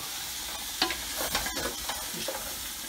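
Collard greens and garlic are stirred in a hot pan, a moderate sizzle broken by repeated scraping and clattering strokes from the stirring, close by and free of speech.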